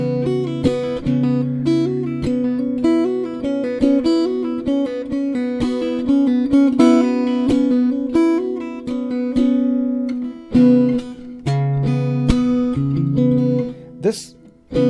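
Fingerstyle acoustic guitar plays an arrangement of a song, with right-hand plucked melody notes over steady bass notes, close and continuous for about fifteen seconds before a brief break and a final strum.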